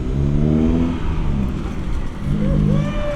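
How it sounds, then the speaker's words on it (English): Datsun roadster fitted with a Miata engine driving past, a steady mid-pitched engine drone with rising and falling harmonics as it revs, loud and close with some wind rush. "The Datsun's driving now."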